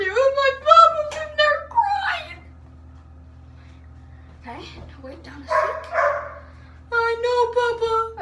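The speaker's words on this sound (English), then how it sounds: "In the background, my dog's barking, and you can hear him." A dog barks in a home, giving a few quick sharp barks and yips in two separate clusters, close and fairly loud, with a quiet gap between them and some faint voice sounds in the middle.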